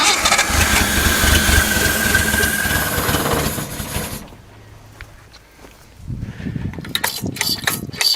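A 1974 Datsun 260Z being cranked by its starter, catching briefly, falling quiet for a moment, then firing again into rough, loud running up close.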